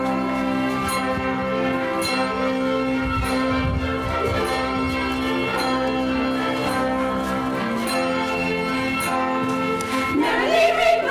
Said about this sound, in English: Oh, it's the luncheon bell.